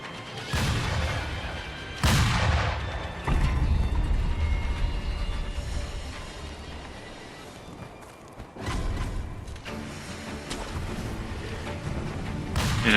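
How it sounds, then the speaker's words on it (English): Gunfire in the game Sekiro, booming shots and crashing impacts bursting in at intervals over a rumbling background, loud near bursts separated by quieter stretches. "Wait here a little bit until the firing slows down a little bit."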